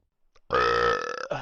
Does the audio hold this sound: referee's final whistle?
no